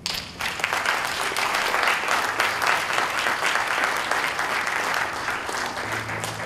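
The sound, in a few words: audience applause at graduation ceremony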